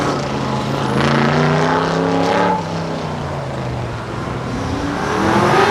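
Cars race at an autocross event, a continuous engine drone with rising and falling pitch as the cars accelerate and shift, heard from a distance without talk.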